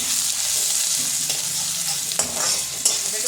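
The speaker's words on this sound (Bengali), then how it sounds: "দিয়ে দেবো আদা কুচিটা, গ্রেট করা আদাটা" Grated ginger sizzling in hot oil in a wok with panch phoron, a steady close frying hiss and a few light stirring scrapes, with no voices.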